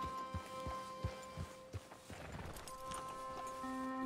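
Horse hooves clip-clopping in the video game Red Dead Redemption 2: a sequence of quiet, evenly spaced hoof knocks over a faint background of game music and ambience.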